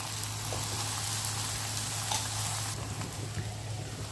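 Cucumber thalipeeth, a no-garlic no-onion Jain flatbread, frying in oil on a pan with a constant close sizzle and a low steady hum underneath.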